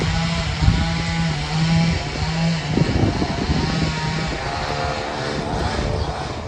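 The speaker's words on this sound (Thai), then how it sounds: "ตัดไม้เสียงดังกันทุกคน" A loud, droning power saw cuts wood nearby in cold weather, its engine buzz rising and falling steadily, with faint voices underneath.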